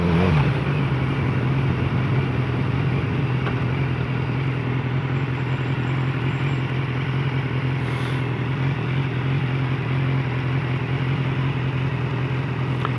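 A BMW S1000R motorcycle rides through city and town streets. Its engine drone and rushing wind noise run continuously at a steady, fairly loud level the whole time, close to the rider.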